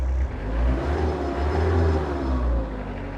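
An Iseki Geas 46s tractor engine revs up, its mid-pitched drone rising and holding steady for a few seconds before easing slightly, close by with no talking.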